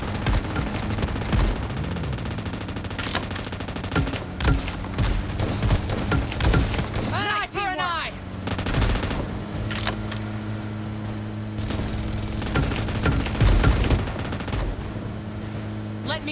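Gunfire in the mobile game PUBG Mobile, rapid bursts of loud shots and sharp cracks repeating over a steady engine-like drone, with a whooshing effect partway through and brief game voice prompts.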